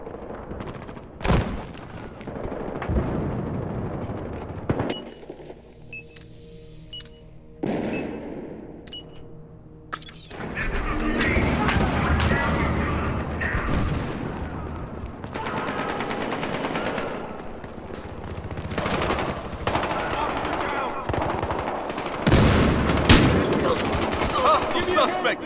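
Rapid gunfire in Battlefield Hardline conquest on the Hollywood Hills map with 64 players: bursts of automatic fire and single shots, near and loud, with brief quieter gaps, a tonal mechanical hum mid-clip, and occasional voice.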